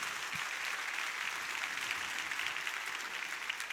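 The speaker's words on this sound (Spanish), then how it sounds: "Puedes darle el mejor aplauso al Rey de Reyes y Señor de Señores" A church congregation applauds during a Spanish-language service, a dense, even wash of many hands clapping that holds steady throughout, moderately distant, with no talk over it.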